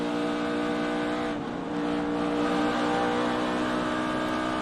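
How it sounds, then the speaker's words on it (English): On-board sound from a NASCAR Xfinity Series race car at Las Vegas Motor Speedway, a loud sustained engine drone at high revs with a brief dip in pitch, close and continuous with no talk. "On board with Cole Custer"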